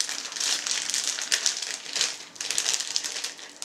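Plastic vacuum bags being handled while portioning sous-vide chicken, with close, continuous crinkling and rustling in uneven bursts and no talking.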